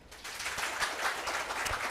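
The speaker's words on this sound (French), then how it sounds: "Mais on applaudit quand même" Applause from a French high school quiz audience, steady and moderately loud, filling the two seconds without talk.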